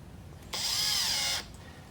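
A cordless power drill drives a screw into a dragon fruit support post during a DIY build, giving one steady, close whirring burst of about a second against quiet background.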